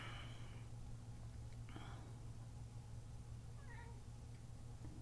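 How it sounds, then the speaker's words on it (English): A cat meows faintly a few times, with short, thin cries spread across a low, steady background hum. Soft whispering or breathy voices are also heard. "That was a cat."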